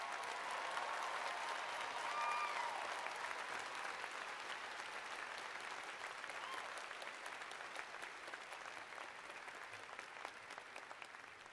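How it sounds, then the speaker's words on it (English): An audience at a university commencement ceremony applauds the doctoral degree recipients, a sustained wash of many hands clapping that stays steady and gently fades toward the end. "join the Dean in a round of applause for all our doctoral degree recipients"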